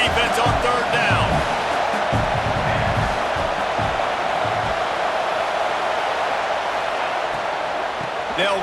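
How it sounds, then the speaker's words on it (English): A football stadium crowd roars loudly and steadily through a third-down defensive stand, a dense wash of noise that fills the whole stretch, with a voice talking over the first seconds. "Decibels rising as the crowd gets behind this defense on third down."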